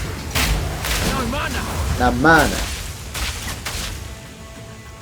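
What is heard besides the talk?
explosive, oil and gas grenades exploding, from video game Path of Exile 2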